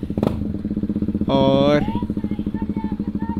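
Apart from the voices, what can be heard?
motorcycle arriving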